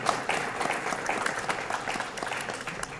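An audience at a graduation hooding ceremony applauds steadily, dense clapping that holds an even level throughout.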